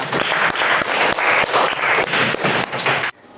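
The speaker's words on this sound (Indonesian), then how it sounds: "tepuk tangan buat kalian semuanya" Classroom audience applause at an Indonesian school teaching presentation, loud rhythmic clapping in regular bursts that cuts off abruptly near the end.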